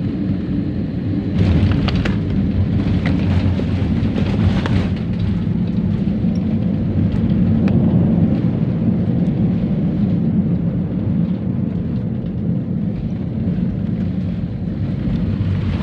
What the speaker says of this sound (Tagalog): Okay, yan ang touchdown. Very smooth touchdown.